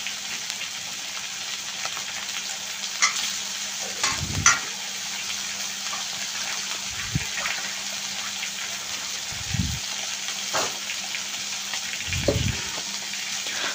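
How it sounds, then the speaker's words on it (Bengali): A steady, hissing sizzle of fish frying in hot oil, close and continuous, with a few low thumps of the pan. "মাছ ভাজতেছি"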